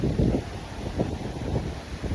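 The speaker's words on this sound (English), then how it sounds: "it's windy as fuck" Steady low rumble of wind buffeting the microphone, with gusty surges throughout and no other clear sounds.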